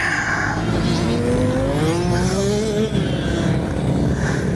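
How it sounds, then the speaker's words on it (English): Loud, close motorcycle engine revving unevenly with a stuck carburetor, pitch rising and falling with a rough, sputtering edge, continuous with no voices. "sounds like someone's got a stuck carburetor"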